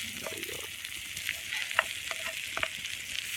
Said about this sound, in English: Give it all a stir there.